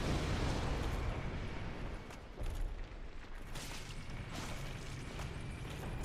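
A fire orb spell cast at a mimic in the Dark Souls video game: a dense, loud, steady roaring rumble that surges briefly around the middle, with no voices.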